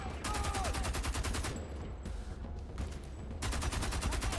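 Rapid automatic gunfire from a first-person shooter set in an occupied city, Homefront: The Revolution, rattling in repeated bursts at moderate volume with a short lull in the middle, no talk over it.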